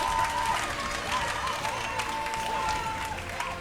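Church congregation applauding God with steady, dense clapping from a crowd, continuous throughout, with voices mixed in beneath.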